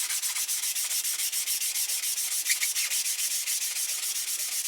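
Fine 1200-grit sandpaper is rubbed back and forth on Suzuki Bandit 1200 motorcycle rearsets in quick, even, rhythmic strokes, close and continuous with no talking.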